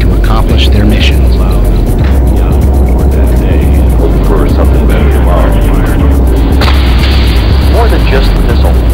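A Boeing Apache attack helicopter roars loudly and steadily, with a deep low rumble, a rapid rhythmic beat and scattered heavy booms layered over it.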